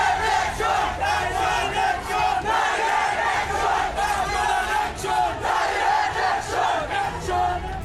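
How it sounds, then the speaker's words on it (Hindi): A large frenzied crowd chants slogans at night in the streets of Doyra Bazar, Sunamganj district, Bangladesh, with loud rhythmic massed voices surging and repeating continuously, dense and close throughout. "रात के स्याह अंधेरे में हिंदुओं के खिलाफ नफरती नारेबाजी करती उन्मादी भीड़ दिख रही है।"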